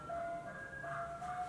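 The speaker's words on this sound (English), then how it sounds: "If the fucking ice cream truck will shut up." An ice cream truck's jingle plays as a steady tonal melody from nearby, alone over low traffic rumble with no talking.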